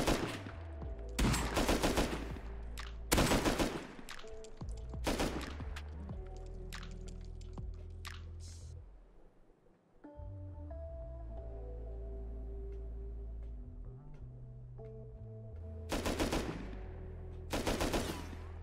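Gunfire in a modded video game set on a Martian oil rig: sharp, loud bursts of rapid automatic shots come in clusters, with a quieter gap mid-way before more volleys crack near the close.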